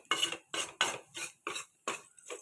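Spoon or spatula scraping and clinking against a pan while chicken thoran is stirred, seven short rhythmic strokes in a row, close and fairly quiet with no talk.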